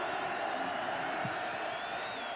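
A college football stadium crowd at a 2002 USC Trojans versus Colorado Buffaloes game gives off a steady, distant roar of voices that holds at an even level throughout.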